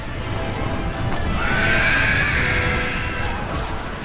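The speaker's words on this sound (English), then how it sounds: "you can see Theoden riding up in front there on his white horse" In the Battle for Middle-earth video game, horses whinny loudly with a rising neigh in the middle, over a rumbling bed of hoofbeats and battle noise.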